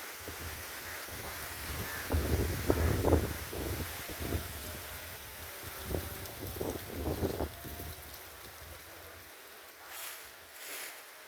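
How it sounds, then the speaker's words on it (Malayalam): Strong wind sweeps through an outdoor spot in Kerala, rustling leaves and buffeting the microphone in uneven gusts that rise and fall, then ease off near the end. "അതിശക്തമായ കാറ്റ്"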